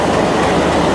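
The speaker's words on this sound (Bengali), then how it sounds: "ট্রেন ঢুকে গেছে" Indore–Howrah train pulling into platform 9 at a station, a steady loud rolling rumble of rail cars filling the scene without pause.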